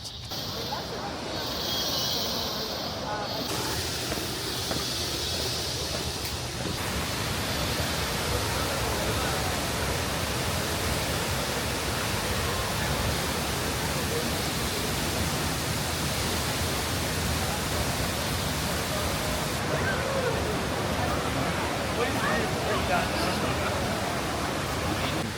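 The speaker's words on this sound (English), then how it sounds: "La Fortuna waterfall." La Fortuna waterfall in Costa Rica, a broad steady roar of falling water, loud and unbroken throughout.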